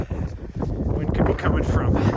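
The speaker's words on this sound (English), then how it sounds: "it's like windy and gusty, and it's always coming from the south" Gusty wind buffets the microphone on Mt Helena, a steady, loud rumbling roar with surges and brief dips throughout.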